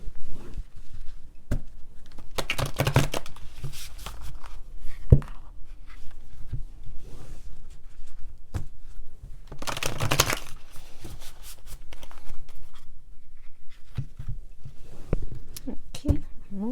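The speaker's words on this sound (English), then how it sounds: "Let's pull some cards for" Tarot cards being pulled and shuffled by hand, heard as close, intermittent papery swishes, flicks and slaps in bursts of handling within a quiet room.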